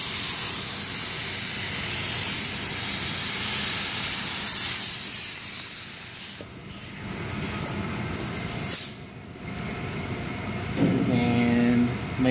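A loud, continuous hiss of activator sprayed onto hydrographics film floating on water fills the first six seconds, then drops away, followed by a few shorter spray bursts and some clattering.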